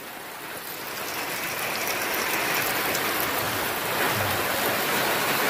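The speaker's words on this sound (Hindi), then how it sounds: "बारिश का मजा लीजिए दोस्त लोग, बहुत बारिश।" Steady rain pours down in a dense, even hiss that fills the whole stretch, with no voices.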